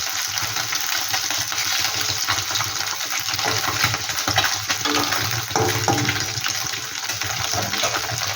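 Small mourola fish fry in hot oil in a home kitchen, giving a steady, moderately loud crackling sizzle that runs throughout with slight swells and no talking.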